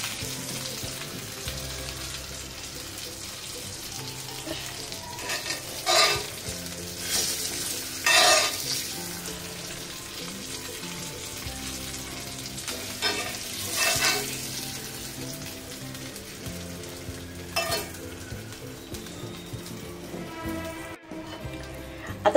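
Pomfret fish fries in oil on a pan, a continuous close sizzle and crackle with several louder bursts of spattering and occasional utensil clinks.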